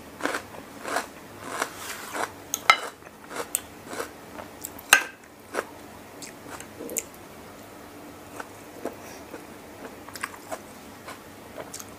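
Crunchy raw vegetables in a salmon seafood Thai rice-noodle salad are bitten and chewed right at the microphone, giving sharp, crisp crunches in quick clusters early on that thin out into softer, sparser chewing.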